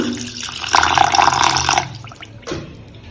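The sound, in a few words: water poured into pressure cooker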